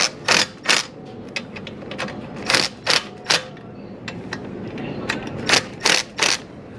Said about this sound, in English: torque it down a little bit.